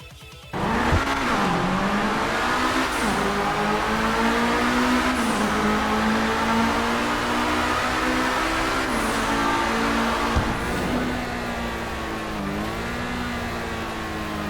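Lamborghini Reaper supercar engine in the video game GTA V, a loud, sustained high revving roar that rises and dips with gear changes, heard close and alone.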